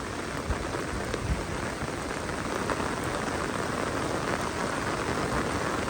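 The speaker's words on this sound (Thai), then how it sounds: "ฝนยังตก" Heavy rain pours without pause over a flooded town, a dense, even roar of drops that stays loud and close for the whole stretch, with no talking.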